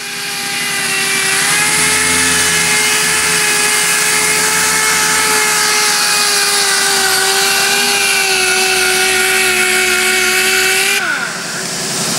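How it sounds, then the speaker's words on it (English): A power sander grinds down a welded metal part in a shop, a loud steady whine with a sustained tonal hum that holds for about eleven seconds before spinning down, with no speech. "what we're doing is we're sanding because we had a little mess up with the flaming."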